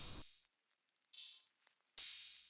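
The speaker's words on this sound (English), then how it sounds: "With the back open hat sounds like this." Open hi-hat sample in an FL Studio beat: three bright, hissy cymbal hits, each sustaining briefly before a sharp cut, evenly spaced and close with nothing else underneath.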